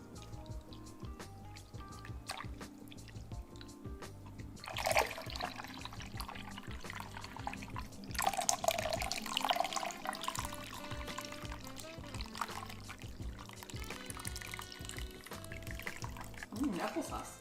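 Liquid poured into a blender while making a homemade Starbucks-style drink, giving a soft splashing trickle that swells in short bursts, with speech running over it throughout.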